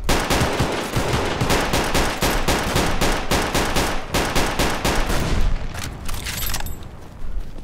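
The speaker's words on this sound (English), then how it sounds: "so let's see what this German assault rifle is like." An STG-44 German assault rifle fires in the Roblox game, rapid full-auto bursts in a dense, loud continuous rattle that slows into separate shots near the end.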